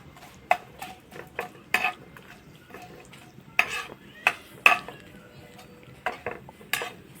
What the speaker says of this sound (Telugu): ఇప్పుడు ఒకసారి మిక్స్ చేసుకుందాం.